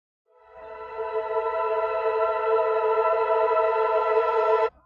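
A bright, high-pitched sustained synth tone rings steadily for several seconds with a soft low hum beneath, washed in reverb, then cuts off abruptly.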